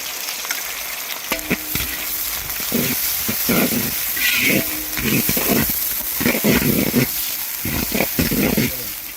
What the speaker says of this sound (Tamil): ரெண்டே ரெண்டு பெரிய வெங்காயம் இந்த மாதிரி கட் பண்ணி சேர்த்துங்க இதுவும் நல்லா பொறிச்சு எடுக்கும்